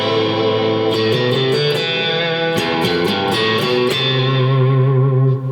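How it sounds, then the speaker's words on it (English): Distorted electric guitar chords with whammy bar pitch bends dipping and rising, repeated picked bursts, trailing off with delay echoes and a reverberant wash. "I have delay on and I have reverb on because the bending really is enhanced"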